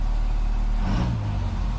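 A 6.7 Cummins diesel engine in a new build drones loudly and steadily, its low rumble rising briefly as it revs before settling back.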